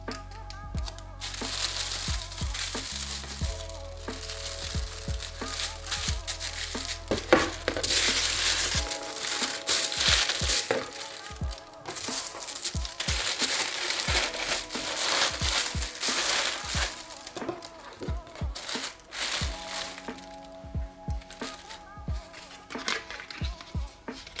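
Wrapping crinkled and crushed while packing a box, a long run of close, loud crackling and rustling bursts with irregular sharp snaps, plus low tonal background sounds early on and again near the end, with no talking.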